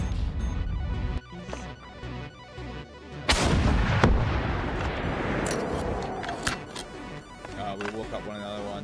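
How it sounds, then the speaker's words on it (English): Incoming missile fire in a video game, loud heavy booming blasts and crackling explosions rolling for several seconds after a sudden hit, with excited voices talking over the barrage. "Missiles incoming."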